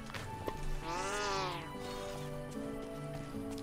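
Ruby, a pet cat, gives a single clear, drawn-out meow close by, rising and falling over about a second against a quiet background of faint game sounds.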